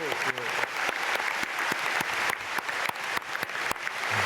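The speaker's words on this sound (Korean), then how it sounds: "박수." A church congregation at a dawn prayer meeting applauds, a sustained wash of clapping with some sharper individual claps standing out, heard at moderate distance with a voice briefly at the start.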